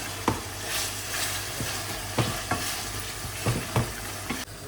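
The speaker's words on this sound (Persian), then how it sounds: "گوشتمون تقریبا سرخ شده" Meat sizzles in a pan for Lebanese kibbeh while a utensil stirs it, with a steady frying hiss and several distinct scraping strokes spread unevenly across the stretch, all close by and with no talking.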